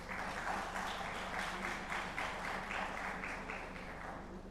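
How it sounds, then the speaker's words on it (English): An audience at a pre-conference meeting of an international legal conference in Jaipur claps steadily as a justice is welcomed on stage, a continuous, rather faint wash of applause heard from a distance. "a round of applause for him"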